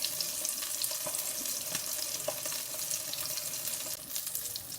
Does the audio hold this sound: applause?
no